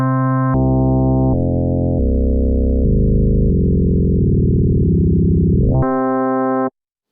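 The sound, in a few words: Waldorf Quantum/Iridium kernel FM synthesis with two sine waves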